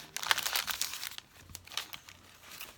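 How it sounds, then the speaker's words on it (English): A paper envelope from Great Britain crinkles and rustles as it is handled, a busy run of close, crisp crackles and small tears with no voices. "Let me look at the envelope again."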